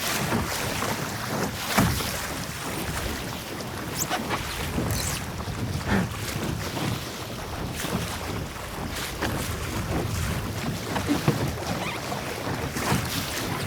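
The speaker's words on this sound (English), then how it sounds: "Ooh, there's some wind." Wind rushing past a Sunfish sailboat under sail, a steady broadband gusting roar with water splashing and sloshing against the small hull, close and fairly loud throughout with brief bumps.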